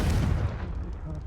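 A Confringo fire spell blast from the video game Hogwarts Legacy booms loud and close, then fades into a rumbling decay over about a second.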